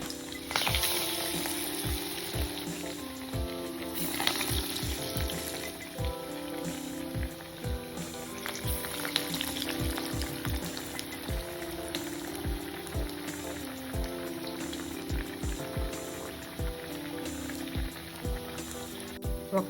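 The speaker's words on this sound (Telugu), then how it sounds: "ఇప్పుడు కడాయి పెట్టి ఆయిల్ వేసి, ఆయిల్ బాగా కాగాక మీడియం ఫ్లేమ్లో పెట్టుకొని వడ వేసేసుకోవాలి" Coriander vadas (kothimeera vada) frying in hot oil in a kadai over a medium flame, village-style cooking, giving a steady, continuous crackling sizzle throughout with faint music in the background.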